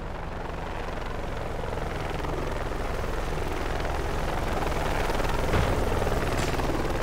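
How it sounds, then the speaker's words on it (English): A helicopter approaches in the video game Project Reality, its steady rotor roar and broadband whine filling the scene and building slightly louder as it nears, with no talk over it. "Chopper is coming too."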